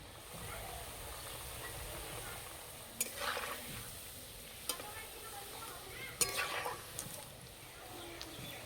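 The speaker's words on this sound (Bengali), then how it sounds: "এই পিঠে একটু লাল লাল করে ভেজে নেব।" Semolina pitha frying in hot oil until reddish, a faint, steady sizzle with a few sharp pops and crackles scattered through it.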